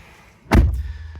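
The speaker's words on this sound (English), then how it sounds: "and close the door here." A single solid thud of a 2024 Chevy Silverado HD pickup door shutting from inside the cab, close and loud, followed by a brief low rumble.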